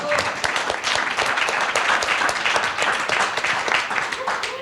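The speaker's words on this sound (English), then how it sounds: "Round of applause." An audience at a panel event claps in a steady, dense burst of applause, close and loud, with a voice faintly audible beneath the clapping.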